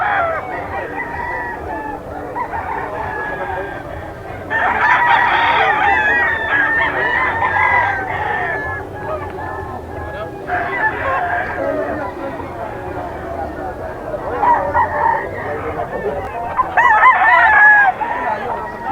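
Several sweater-line gamefowl roosters crow repeatedly at a pet market, loud nearby calls overlapping amid background crowd chatter and clucking.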